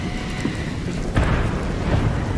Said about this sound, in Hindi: और साथ में ये धमाका भी हुआ है